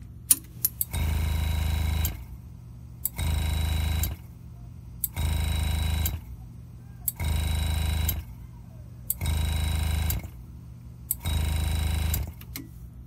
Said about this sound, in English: When I turn the engraving machine on, both hand pieces are plugged in.